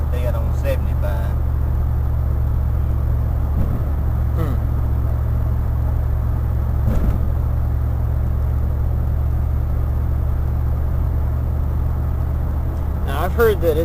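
A wood gas truck engine holds steady at 2,000 RPM as a continuous low rumble with road and cabin noise, loud and close, with voices talking over it at times.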